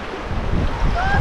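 Sea waves wash steadily at Gorai Beach in Mumbai, a broad continuous rush of surf mixed with wind buffeting the microphone, with a faint tonal whine rising near the end.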